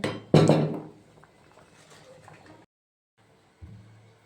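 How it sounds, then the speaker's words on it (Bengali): A single loud thunk and clatter as chopped vegetables drop into a pot of boiling rice and lentils for vegetarian khichuri, followed by faint rustling, a brief silence, then a softer knock. "তো এখানে আমি সবজিগুলোকে দিয়ে দেব"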